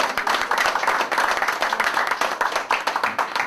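An audience applauds at a political speech by the Pakistan Peoples Party, with dense, steady clapping from many hands that fills the whole stretch at a fairly close, even level.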